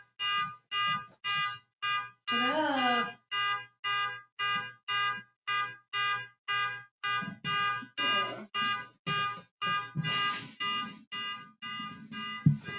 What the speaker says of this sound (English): it sounds like a fucking like car alarm